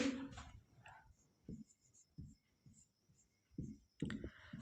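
Chalk or marker strokes on a classroom board during a maths lesson, a series of short scratchy taps and strokes spaced irregularly, close and fairly quiet, with no talk.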